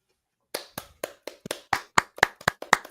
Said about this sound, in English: Us clapping for no reason.